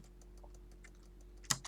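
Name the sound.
typing on a computer keyboard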